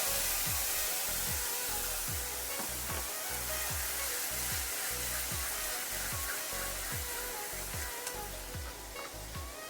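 Ground spice paste hits a hot pan for a Bengali chicken posto dish, giving a loud, steady sizzle and frying hiss throughout with repeated stirring scrapes and clinks, no voices.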